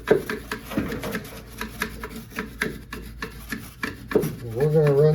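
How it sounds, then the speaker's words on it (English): A small brush scrubs dirt from the blower wheel of a PTAC unit, making repeated short scratchy bristle strokes up close; a brief voice-like tone enters near the end. "we're going to run this little brush that we used back on the condenser around this blower wheel and knock all the dirt off of it"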